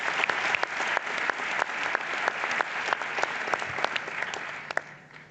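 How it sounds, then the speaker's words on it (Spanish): Warm, sustained applause from an audience at a Spanish talk on space-time greets a speaker, many hands clapping in a steady dense patter with a few sharper individual claps standing out near the end. "pues un aplauso para Guillermo Rojo"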